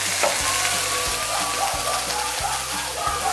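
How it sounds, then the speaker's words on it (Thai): Northern Thai chili paste, nam prik ong, stir-fries over low heat with a steady soft sizzle and spatter, while regular scraping strokes from the spatula repeat throughout. "ผัดน้ำพริกให้หอม"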